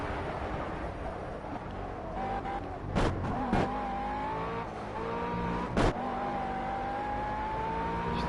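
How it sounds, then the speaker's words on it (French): A GT3 race car in the Project CARS racing game coasts with its engine note dropping, then reaccelerates with rising revs, with brief sharp bursts and a steady engine drone throughout. "en laissant couler un peu la voiture et en réaccélérant juste de ce qu'il faut"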